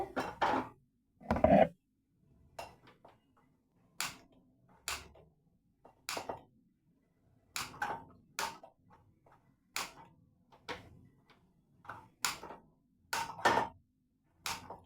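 A kadai pan is set on a kitchen stove, giving a series of quiet metallic knocks and clatters spaced a few seconds apart, with near silence between them.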